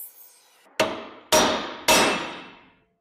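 Three sharp, ringing hammer blows on a heated rivet in the front end of a 1926 John Deere Model D tractor, spaced about half a second apart, each strike decaying with a metallic ring.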